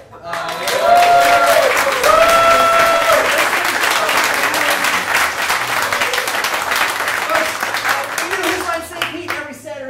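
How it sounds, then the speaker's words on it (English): Sustained applause from a sizable crowd at an improv comedy show, dense clapping that fills the room, with some cheering voices and whoops rising over it early on. "So please give a round of applause to Mac and Laura."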